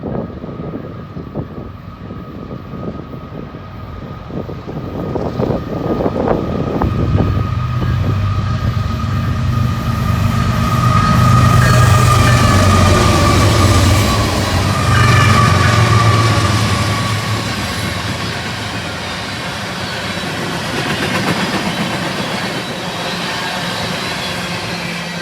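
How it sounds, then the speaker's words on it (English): Norfolk Southern oil train led by a GEVO with a fresh AC-44 second rolls past, a loud, steady rumble of engines and wheels building and lingering with rattling cars, outdoors and close. "the first train was a Norfolk Southern oil train with a GEVO leader and fresh AC-44 in second"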